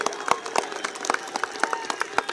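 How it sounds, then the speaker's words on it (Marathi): Scattered hand claps from a crowd at a cricket match semi-final come as sharp, uneven bursts, fairly close and moderately loud, with no talk over them. "टाळ्यांचा कडकडाट व्हायलाच हवाय"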